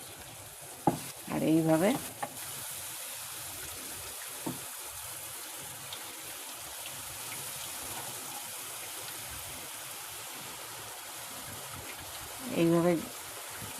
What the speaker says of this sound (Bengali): এইভাবে তেলের মধ্যে বোঁদেটা পড়বে